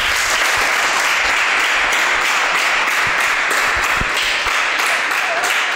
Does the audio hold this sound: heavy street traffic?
no